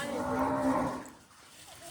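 Cows on a farm moo, one drawn-out low call close by that fades into quiet outdoor ambience.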